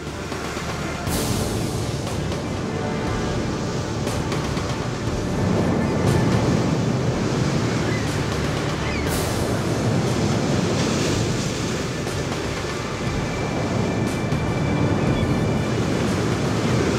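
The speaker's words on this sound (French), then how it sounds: "la pluie et le vent trouvent deux alliés redoutables, la houle et les vagues" Stormy winter ocean waves and swell on the Scottish coast, a loud continuous roar of surf with rolling surges and gusting wind buffeting the microphone, no voices.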